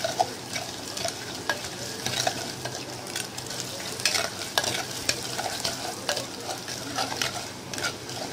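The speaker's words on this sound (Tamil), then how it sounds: "இது நல்லா வதக்கி விடுங்க" Spices such as fenugreek and mustard seeds sautéing in a pan for kara kuzhambu, a close steady sizzle with frequent sharp clicks and scrapes of a spoon stirring against the metal.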